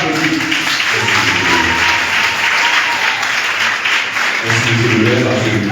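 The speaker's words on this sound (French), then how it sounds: "Nous applaudissons." Guests applaud at a civil wedding ceremony in a mayor's hall, a dense, loud, continuous round of clapping, with a voice speaking over it at the start and again near the end.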